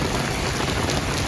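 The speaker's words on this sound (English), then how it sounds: "Heavy rain, thunderstorms across the area." Heavy rain pours steadily outside a television studio's back door during a thunderstorm, a dense unbroken hiss of falling water at constant loudness with no clear thunder.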